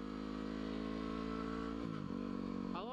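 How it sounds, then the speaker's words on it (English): A Yamaha WR250R motorcycle engine runs loud and close at a steady idle, its pitch dipping briefly and then climbing in a quick rev near the end. "Just makes my day, having a nice loud bike."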